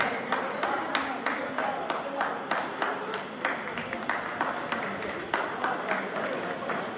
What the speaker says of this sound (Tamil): அனைவரும் கைத்தட்டி உற்சாகப்படுத்துமாறு கேட்டுக்கொள்கின்றோம்.